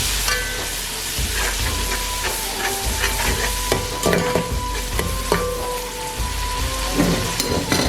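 Cubed tomatoes hit browned onions in a hot pan for an aloo matar pulao, giving a dense, even sizzle like rain on a surface, with intermittent spoon scrapes and clinks up close.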